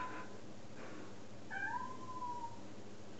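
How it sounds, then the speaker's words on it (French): A single plaintive meow from a pet cat, quiet and held for about a second against low room noise, preceded by faint rustling. "Ça, c'est mon mignon qui miaule."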